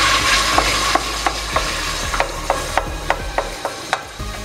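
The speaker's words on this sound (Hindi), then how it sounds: "अब ये तेल बचा है, इसके अंदर हम ये प्याज डालेंगे कच्ची।" Raw onion sizzles loudly in leftover hot oil, a dense close frying hiss punctuated by a regular series of sharp clicking scrapes from a spoon working the pan.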